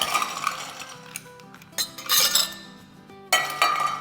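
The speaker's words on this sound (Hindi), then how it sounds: "तो अब ग्लासेस में जिसमें भी आपको सर्व करना हो उसमें आइस डालेंगे।" Ice cubes clink and rattle into serving glasses for a cool summer drink, in several separate bright, hard bursts with quiet gaps between them, close by and with no talking.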